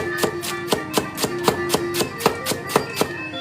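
A knife chops steadily on a board, about three crisp strikes per second in an even rhythm, close and clear with no talking.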